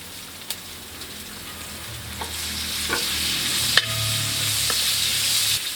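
Green chillies fry in hot oil for a fish pickle, a steady bubbling sizzle that builds as they go in, broken by a few sharp pops and spoon clicks against the pan.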